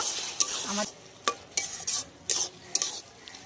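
Ground cumin and coriander with a little sugar stirred into frying bottle gourd and prawns in a pan, with intermittent metal-spoon scrapes and knocks over a steady close sizzle.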